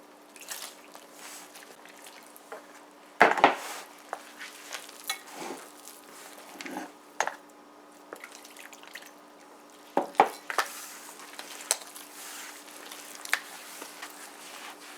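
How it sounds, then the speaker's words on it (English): Guyanese bara batter is stirred by hand with blended scallions, pepper and added water, giving soft, wet squishing and sloshing sounds with occasional louder knocks against the bowl in a quiet kitchen. "So now we're gonna begin mixing, and we're gonna add our water."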